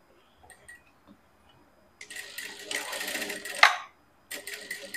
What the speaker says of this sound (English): I'll just go ahead and follow that seam line and sew it down also